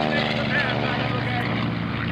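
A silver P-51 Mustang racing plane at an air racing demonstration roars past with a steady, loud propeller engine drone and a slight pitch shift as it passes, while an announcer talks over it.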